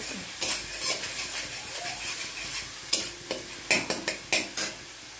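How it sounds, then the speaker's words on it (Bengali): Tomatoes frying in a pan for mustard pabda catfish are stirred close up, giving a soft sizzle broken by several sharp scrapes and clacks of the utensil against the pan near the end. "টমেটো যতক্ষণ না হচ্ছে ততক্ষণ আমি নাড়তে থাকবো।"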